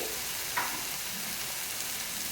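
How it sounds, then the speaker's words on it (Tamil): Vegetables sauté in a pan for a Tamil-style side dish, giving a steady close sizzle with one brief soft clink from the pan, no voices. "நல்லா வதக்கிக்கிங்க இப்போ இந்த ஸ்டேஜில் நல்லா வதங்கிக்கிட்டு இருக்கும்போது"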